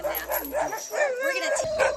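Sled dogs barking and yipping together, a chorus of high excited yelps and whines in quick overlapping bursts, fairly close and moderately loud.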